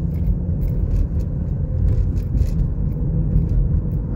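A 2017 Ford Escape with 62k miles pulls away from a stop under fairly aggressive throttle, heard from inside as a steady low engine and road rumble with soft intermittent clicks and rattles.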